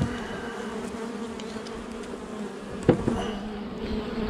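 A dense, steady buzz of many honeybees at a hive hums continuously up close, with one brief bump partway through.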